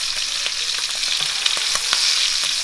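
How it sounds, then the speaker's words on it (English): Lamb chops searing in hot oil in a pan, a steady, loud, crackling sizzle with small popping spatters throughout and no talking. "So I'm gonna sear these, and then I'll go back and sear the rest."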